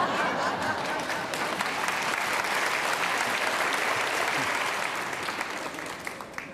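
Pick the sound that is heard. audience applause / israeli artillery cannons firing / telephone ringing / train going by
audience applause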